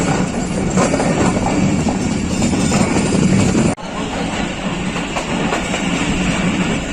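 The Pakistan Express picks up speed on the line: a loud, continuous rumble and wheel clatter from inside the train, broken by one brief dip before the steady roar resumes.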